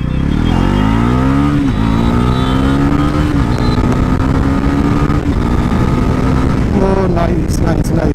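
A 2024 Bajaj Pulsar NS400Z motorcycle accelerates hard through city streets, its engine note climbing steadily in pitch with brief dips at gear changes, loud and close throughout with traffic noise beneath.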